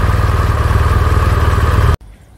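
Warm BMW R1200 GS boxer engine idling close up, a loud, rhythmic pulsing thrum with clattery mechanical texture that runs steadily, then cuts off abruptly, leaving a quieter fading tail.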